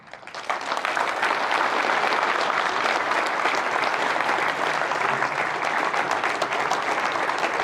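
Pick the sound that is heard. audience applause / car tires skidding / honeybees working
audience applause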